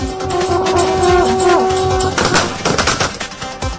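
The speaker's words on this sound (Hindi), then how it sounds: "स्वागत में ढोल नगाड़ों के साथ जमकर आतिशबाजी की गई।" Fireworks crackle and pop in rapid dense bursts at a political welcome celebration with drums, loud and close, following a held tonal blare at the start.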